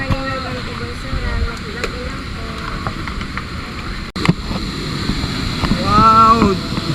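Bunsuran Falls waterfall gives a steady, broad rush of water throughout, while people talk and call out over it close by.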